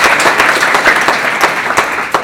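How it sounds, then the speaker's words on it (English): A room audience applauds presenting teams at a startup event, a dense, steady burst of clapping with no talk over it. "Why don't we all give them a round of applause for coming out."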